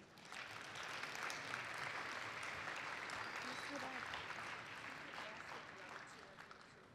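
A youth conference audience applauds for Lena, a steady wash of clapping from many hands that holds for the whole stretch before tapering slightly at the end.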